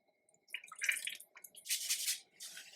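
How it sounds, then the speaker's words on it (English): Cream for a pesto cream sauce splashes into a pan in a few soft, close bursts of liquid, quiet and wet with short pauses between pours. "we're going to add cream to the pan"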